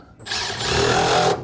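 A Milwaukee power tool whirs up and runs at a steady high speed for about a second before cutting off, loud and close.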